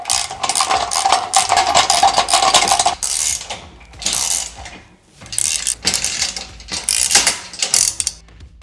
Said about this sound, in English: we're just going to tighten it so that this nut comes in contact with the mounting foot